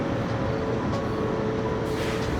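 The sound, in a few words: truck driving past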